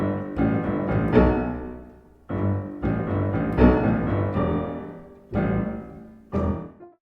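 A slow, loud orchestral theme by Judith Weir with a piano melody, rich low notes and sustained chords, phrases separated by short pauses.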